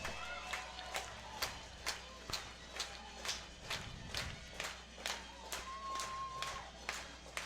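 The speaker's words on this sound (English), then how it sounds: "The mariachi music plays. The fans clap and stomp and get into it for the hometown second baseman" Home fans of the Saskatoon Berries at a WCBL baseball all-star game clap and stomp in a steady, even rhythm along with faint mariachi music, a crowd sound filling the ballpark.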